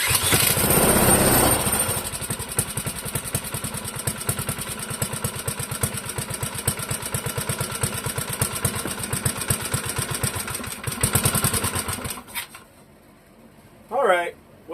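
A Clinton model 3100 small engine being started on half choke, running with a steady rapid clatter for about twelve seconds, loud and close, then cutting out into near quiet before a brief final burst.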